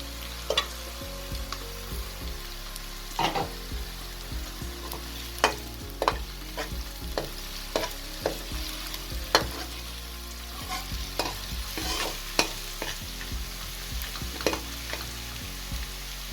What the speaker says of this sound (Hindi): साथ ही इसमें मैं ये कलवंजी और जीरे को शामिल कर रही हूँ।